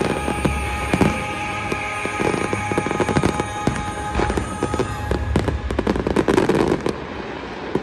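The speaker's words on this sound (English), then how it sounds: "Here's a clip from the final firework." A nighttime fireworks finale over a large lake at a Han Dynasty themed show, loud rapid bursts and crackling pops overlapping continuously, with sharp bangs scattered throughout and no pause.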